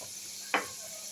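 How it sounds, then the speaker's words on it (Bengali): Potatoes fry in a pan for chicken biryani with a faint, steady sizzle, broken once by a short sharp scrape of stirring, and no talk. "আলুটা উঠিয়ে নেব। আমার আলুটা প্রায় ভাজা শেষ।"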